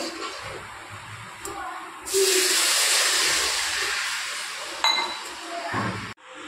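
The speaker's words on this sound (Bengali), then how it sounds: "ভালো করে ভাজা হয়ে গেছে। এবার আমি জল দিয়ে দেবো।" Water poured into a hot wok of oil-fried mung dal sets off a loud, sudden burst of hissing and sizzling that holds steady for a few seconds and then slowly fades, with a few light metallic clinks around it.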